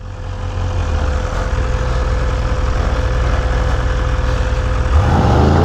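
Stock sport motorcycle, a BMW S1000RR or Ducati Panigale V4S, idling loud and close with a steady rumbling drone, then a sharp rising rev near the end, no voices.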